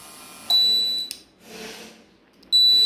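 A high electronic buzzer alarm on an Arduino alcohol detector sounds in two steady tones, cutting in sharply, stopping, then starting again loud and close.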